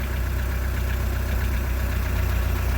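A MerCruiser 3.0 TKS boat engine idles with a steady, close, low throbbing rumble that holds an even rhythm throughout, with no voices over it.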